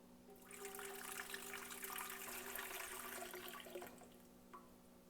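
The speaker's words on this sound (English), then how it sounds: "Now we'll add the rest of the beef broth." Beef broth pours from a container into a soup pot for beef and vegetable soup, a steady liquid splash lasting a few seconds, close but fairly soft, with no talk.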